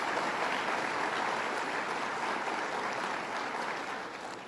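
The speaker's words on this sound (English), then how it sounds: "Let's give her a round of applause, Senator Betty Little." Audience applause at a budget address by the Governor in Clinton County, a steady wash of clapping that holds for several seconds and fades slightly at the end.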